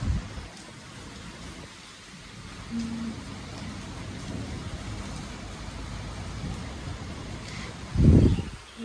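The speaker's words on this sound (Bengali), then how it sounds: "এই দেখো গাইস, বৃষ্টি হচ্ছে" Steady rainfall outdoors during a heavy shower, a broad continuous patter with a louder gust or splash near the end, fairly close and unaccompanied by speech.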